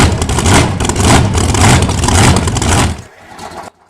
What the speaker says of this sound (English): Hear the sound of an engine.